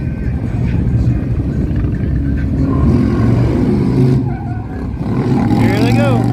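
At a Buffalo Chip drag event, a red Champion and a blue Harley Sportster S roar loudly and continuously as they race, the engine drone rising in pitch, with crowd noise and voices underneath.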